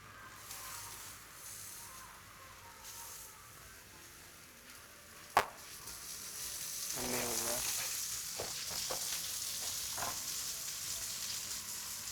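Chillies sizzling and frying on a hot griddle for Jaffna kothu roti at a street food stall, a steady close hiss that swells midway, with a sharp metal clink and scattered scraping stirs.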